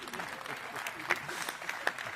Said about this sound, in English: an applause to Thomas Vaupel